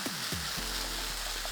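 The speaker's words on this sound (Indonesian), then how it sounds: "kita masukkan daging yang tadi sudah kita tumis guys. Aduk rata kembali." Sautéed meat being stirred into a sauce in a hot pan for baked spaghetti bolognese, giving a steady close sizzle with a few scraping stir sounds at the start.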